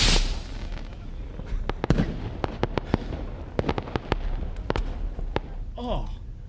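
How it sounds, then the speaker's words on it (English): Fireworks crackle and pop in a rapid scatter of sharp bursts, some loud and some distant, over a steady hiss, ending with a whistling rise. "Oh, you want the fireworks again?"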